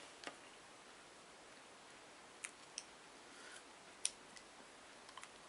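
Cellophane wrapping is worked open on a World of Warcraft Drums of War PVP card deck, giving faint sparse crinkles and sharp little clicks and ticks scattered across an otherwise quiet room.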